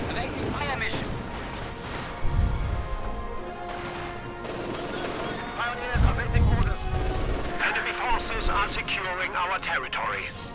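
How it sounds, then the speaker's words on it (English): Artillery barrage in a real-time strategy video game, heavy thuds and crashes landing in a couple of clusters amid continuous battle noise, heard under steady commentary talk. "And of course constant artillery barrages."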